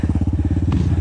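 A motorcycle climbs a foggy trail, its engine chugging loudly in a fast, even stream of low pulses for about a second, heard up close.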